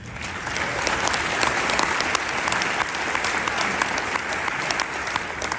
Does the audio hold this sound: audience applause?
yes